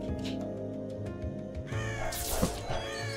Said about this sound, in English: side-scrolling level with a bunch of crows